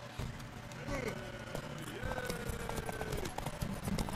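Horse hooves thud in a quick galloping rhythm in The Witcher 3, close and steady beneath a voice and game music, with a continuous background of in-game ambience.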